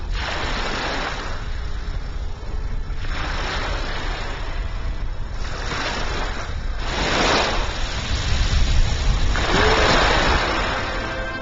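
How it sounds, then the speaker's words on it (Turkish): Sea waves break on the shore at Foça beach, a steady wash of surf that swells into repeated rushing surges every couple of seconds, with no voices. "Denizin gönderdiği dalgalar karaya birer selam gibi fısıldamakta"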